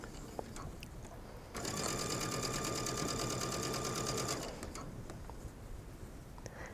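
A domestic sewing machine runs a straight stitch seam, set to a 3.0 stitch length, on a garment with mesh fabric, a steady close whirring burst of about three seconds between quieter pauses.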